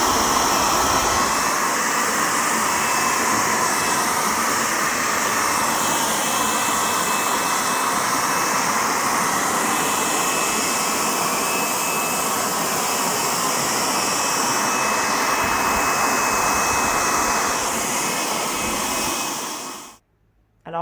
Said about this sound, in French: Alors, on va tester ensemble l'efficacité de cet aspirateur.